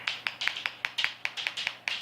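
A pet bird repeats a sharp, clicking chirp about ten times in quick, steady succession, close and fairly faint.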